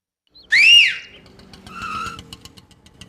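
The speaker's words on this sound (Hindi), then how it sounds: "ऑटो वाले को कैसे बुलाया? सीटी बजाकर।" A single sharp, loud whistle rises and falls, blown on a street to call an auto rickshaw, followed by traffic and engine noise fading into the background.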